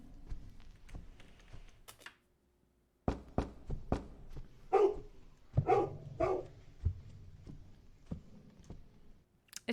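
Dog barking in the horror game The Cat Lady, a string of sharp barks in the middle of the span amid scattered clicks and thumps, fairly close and clear.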